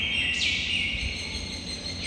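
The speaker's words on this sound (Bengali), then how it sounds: "শুধু ওই পাখিতে কিচিরমিচির করছে, সম্পূর্ণরূপে ফাঁকা।" Birds chirp steadily in an empty, quiet hall of the Chakla Loknath temple, a continuous high twittering with a sharper call near the start and a faint low hum beneath, no voices.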